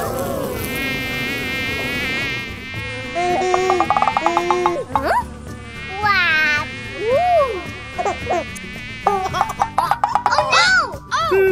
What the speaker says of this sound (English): don't get too close to the bees